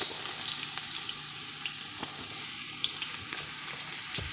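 Carrots frying in hot butter in a pan give a steady, close sizzle with soft crackles and an occasional stir or clink throughout, with no talking.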